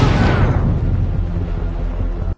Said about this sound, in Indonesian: ponsel itu pun meledak